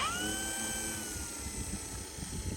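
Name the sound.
motor of a tailwheel RC airplane running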